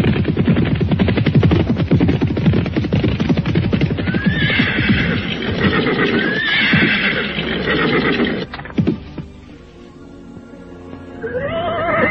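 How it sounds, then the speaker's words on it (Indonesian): Three horses carrying riders gallop toward a village in a dramatised scene, loud and close, with rapid pounding hoofbeats under repeated shrill neighs and whinnies, then the hooves fade briefly before another whinny near the end. "Dan 3 ekor kuda yang membawa 4 orang itu segera berderap menuju ke perkampungan yang nampak di kejauhan."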